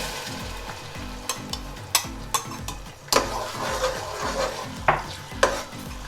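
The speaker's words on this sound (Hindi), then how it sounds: "अब इसमें मैंने जो प्याज का पेस्ट बना के और अदरक लहसुन के साथ रखा था ये मैं" Onion paste with ginger and garlic sizzles steadily in a pan for white chicken korma, with recurring scrapes and taps of stirring over the constant frying hiss.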